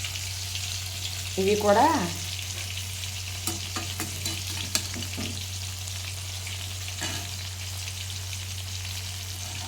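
Prawn pakoda frying in hot oil, a steady soft sizzle throughout with a few light stirring clinks, while someone speaks briefly over it.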